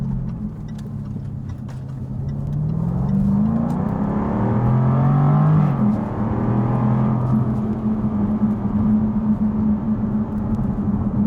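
Jaguar F-Type R accelerating hard from inside the cabin, engine note climbing in pitch, dropping briefly at a gear shift, then rising again into a sustained loud drone.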